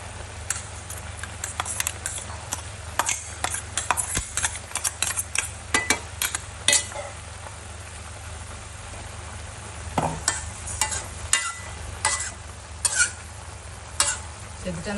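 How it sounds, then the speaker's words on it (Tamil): A spoon stirs vegetables in a pot for Onam aviyal, producing a string of sharp scraping and clinking strokes in irregular bursts over a low steady hum, close up and moderately quiet. "இப்போ நம்ம அதையும் நல்லா கிளறி விட்டுக்கலாம்."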